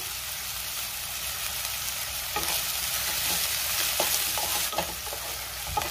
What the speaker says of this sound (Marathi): आता बारीक चिरलेले टोमॅटो घालते आणि टोमॅटो 2 ते 3 मिनिटं मी छान मऊ होईपर्यंत परतून घेणार आहे।